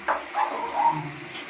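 Shower water running during a dog's bath at home, a steady soft hiss of spraying water that carries through the whole short moment with no one talking.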